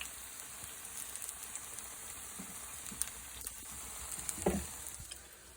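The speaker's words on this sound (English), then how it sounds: "just let these salmon patties fry for 4 minutes on each side" Salmon patties frying in a pan, a quiet steady sizzle and crackle with occasional small pops and a brief stir near the end.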